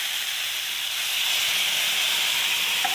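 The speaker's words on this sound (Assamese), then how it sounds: "ইয়াতে মই এতিয়া পানী দিলোঁ।" Water poured into a hot, oiled pan sizzles with a loud, steady, bright hiss that holds evenly throughout, close by, with no voices.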